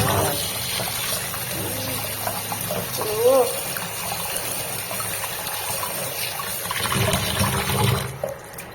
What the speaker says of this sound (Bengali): এবারে জলে হাত ধোবো, সেখানেও ঠান্ডা।